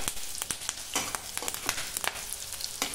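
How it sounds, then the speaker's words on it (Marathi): Garlic, green chili and curry leaves sauté in a pan, crackling and sizzling with sharp pops and spatters scattered irregularly over a bubbling background, close and moderately loud, with no voices. "लसूण आणि मिरची व्यवस्थित परतून घ्यायचं आहे"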